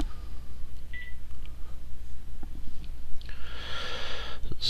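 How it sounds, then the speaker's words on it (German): A mobile phone going off during a gaming session, several short electronic tones and beeps, then a louder rising ring-like burst near the end over constant background game noise. "Und jetzt geht mein Handy los."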